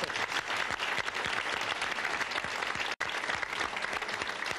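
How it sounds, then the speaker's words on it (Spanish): An audience applauds at a televised show, sustained dense clapping of many hands that stays steady and full without a break in its texture. "Prolonguemos el aplauso para el maestro Coco Pérez."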